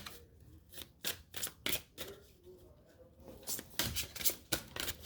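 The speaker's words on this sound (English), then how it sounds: "So I'm going to go ahead and shuffle" Tarot cards riffled and shuffled in short bursts, crisp papery flicks close by in an irregular rhythm.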